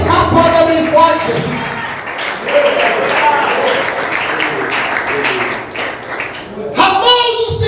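An audience at a church prophetic seminar breaks into loud, sustained applause that fills the middle of the clip, with a preacher's voice heard over it at the start and again at the end.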